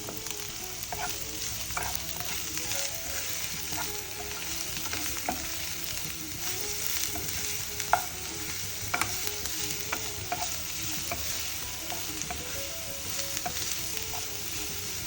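Chopped onion and curry leaves fry steadily in a hot pan while prawn puttu masala is being prepared, giving a continuous close sizzle with occasional stirring clicks and no talking.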